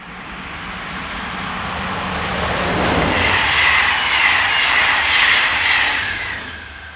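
Electric locomotive 26150 hauling a Mulhouse to Strasbourg passenger train passes by, a broad rushing roar building to a peak with rail hiss and faint clatter, then easing away.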